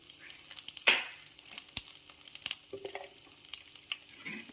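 Cumin, fenugreek and fresh coconut stirred in a pan, with light sizzling and crisp scraping clicks from the spoon, close up and without talk.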